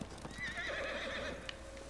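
A horse in the video game Ghost of Tsushima whinnies with a wavering high neigh lasting over a second, close and clear, with soft hoof clip-clops and game ambience around it.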